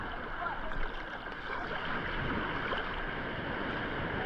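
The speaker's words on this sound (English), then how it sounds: "These nice gentle waves." Gentle, calm ocean surf rolls in at a California beach where people are swimming, a steady broadband wash of small waves with no distinct breaks, continuous and moderately soft throughout.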